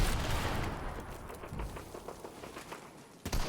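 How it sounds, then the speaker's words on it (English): Grenade explosions and rattling gunfire in a competitive shooter match, loud blasts up front fading into scattered shots, with a final sharp burst at the end. "Nades incoming."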